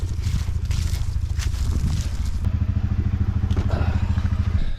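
Air compressor for a nail gun chugs steadily in a cold outdoor cabin build, a loud low pulsing motor rhythm running throughout with some clatter.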